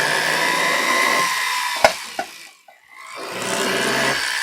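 A Foredom rotary tool with a 0.5mm bit drills holes for an Art Deco filigree ring, giving a high, steady whine with a few sharp clicks. It dips briefly to near silence as the bit is released, then starts again.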